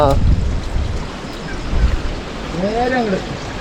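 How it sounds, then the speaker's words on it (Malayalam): Strong wind blows across an abandoned tea estate, a loud gusting rumble buffeting the microphone, while a voice briefly sounds in the middle. "കാറ്റ് ഇപ്പോഴും ഭയങ്കര ശക്തമായിട്ട് കാറ്റ് വീശിയാണ് കേട്ടോ"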